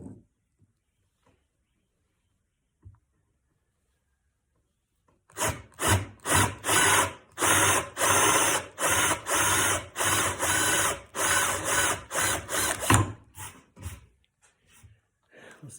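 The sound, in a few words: cutting old rocking chair wood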